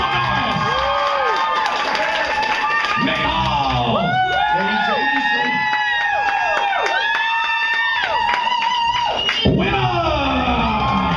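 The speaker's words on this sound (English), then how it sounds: "let us now, by a round of applause, decide who is the winner" A roast-battle audience erupts in loud cheering, whoops and yells with clapping underneath, a sustained wall of excited voices rising and falling for several seconds.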